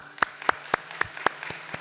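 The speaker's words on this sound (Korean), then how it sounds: "우리 박수로 또 축복해 주면 좋겠습니다" A church congregation claps during a Sunday service, heard as a slow, even series of about eight separate claps at a steady beat, moderately loud with a faint hum in the background.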